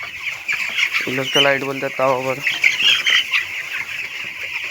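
Chickens on a poultry farm cluck in a short burst of rapid harmonic calls near the middle, set against steady hen chatter and background noise, with a person speaking over it.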